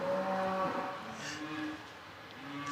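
A cow lets out a low, sustained moo at a junior livestock show ring, heard fairly close above a murmuring crowd, with a second shorter call rising near the end.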